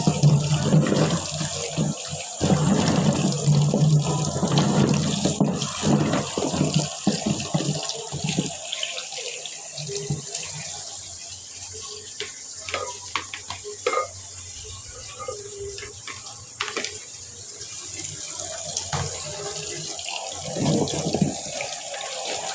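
Tap water runs steadily over small puti fish being washed one at a time in a kitchen, with splashing, rinsing and handling clatter close by, strongest early and easing later.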